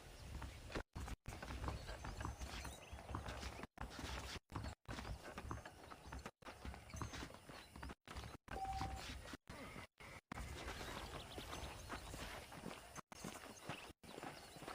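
Horses trot with a steady clip-clop of hooves over a busy, faintly mechanical background in the video game Red Dead Redemption, running on an emulator, continuing throughout with brief dropouts.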